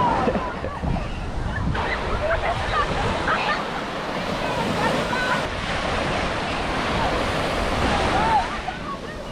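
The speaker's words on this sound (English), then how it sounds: "Beautiful day at the beach with the family." Ocean waves at a beach give a steady, broad rushing surf that runs throughout. Wind buffets the microphone, and faint voices sit in the background.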